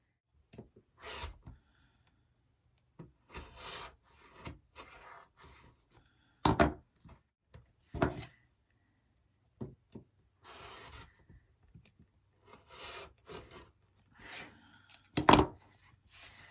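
A quilt block unit is trimmed with a rotary cutter on a cutting mat: intermittent scraping rubs and sharp knocks in short bursts separated by quiet gaps, close by.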